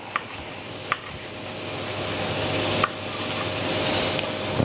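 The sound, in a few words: onions being tossed and frying in a pan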